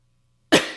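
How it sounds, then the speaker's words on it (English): A single sharp cough bursts out after a moment of near silence, close and fairly loud, then quickly fades. "I was about to cough."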